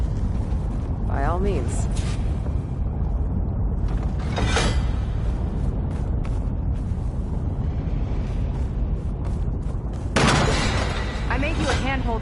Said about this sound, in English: Another ballista. Maybe we can use it. I'll shoot this time.